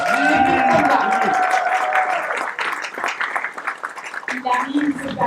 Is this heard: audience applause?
yes